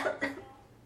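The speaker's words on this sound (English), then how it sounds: "Coughing," Two quick dry coughs in close succession, close and moderately loud, fading into quiet.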